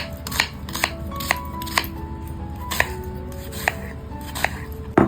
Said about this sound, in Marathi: कांदा घेतलाय तो पूर्ण आई आता कटिंग करून घेते